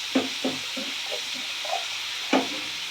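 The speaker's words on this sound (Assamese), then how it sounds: "এতিয়া ওপৰত মাছখিনি দি দিম" Fish sizzling and frying in a pan for an Assamese fish dish, a steady hiss broken by several distinct scrapes and knocks of a spatula stirring against the pan.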